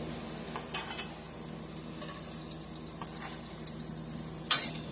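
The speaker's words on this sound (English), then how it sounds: "let's get my oil in the pan. I have some garlic that I'm going to just add to the pan as well." Garlic sizzles quietly in hot oil in a pan, a faint steady fry with a few soft scrapes and light clinks of utensils, ending in one sharper knock near the close.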